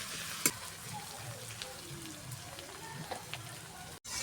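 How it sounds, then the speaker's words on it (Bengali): Onions fry in oil until lightly browned, a soft steady sizzle with a few small pops and faint stirring, brief and fairly quiet. "পেঁয়াজগুলোকে হালকা একটু লাল লাল করে নেব।"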